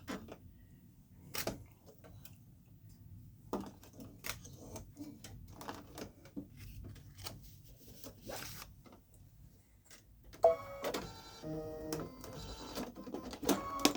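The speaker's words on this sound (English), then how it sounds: "one more color change before it stitches out the patch part" A Babylock Solaris Vision embroidery machine stitches out a patch, giving quiet, rapid mechanical ticking and clattering with intermittent sharper clicks, growing busier and more rhythmic near the end.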